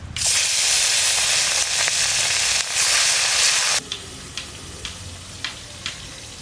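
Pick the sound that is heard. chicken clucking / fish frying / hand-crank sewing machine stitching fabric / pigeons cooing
fish frying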